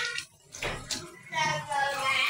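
Water splashes over a handful of chili peppers being rinsed by hand in a kitchen while cooking chicken tinola, with brief pauses and a voice speaking at the start.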